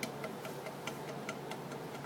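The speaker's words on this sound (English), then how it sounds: "that noise is basically the backboard going back and forth because this hole is a little bit larger than what it needs to be" Pottery wheel backboard rattling back and forth in a loose, oversized hole, a faint regular ticking clatter of quick light knocks, about four per second, alone with no talk.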